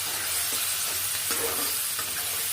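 Chopped onion stirred with fried shrimp in a pan while cooking shrimp with taro stolons, a steady close sizzle with a few soft spatula scrapes over a short stretch, no voices.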